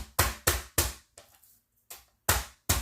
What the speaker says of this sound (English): I believe it's really a tenderizer, but it's a lot funner to call it a hammer. And you just smash it down flat.